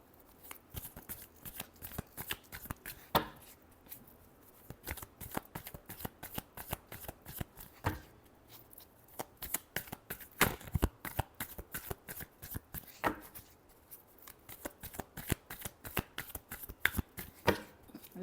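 Tarot cards being shuffled by hand, a dense run of crisp riffling clicks and flicks in quick irregular bursts, close and moderately loud with no voice over it.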